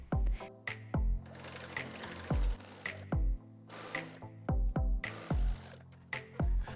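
Sewing machine topstitching close to the edge of a market bag lining, running in several short bursts of rapid stitching separated by brief pauses, close and clear with no talk.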